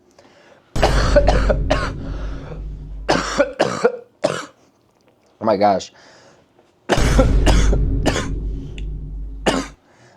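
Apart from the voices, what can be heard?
coughing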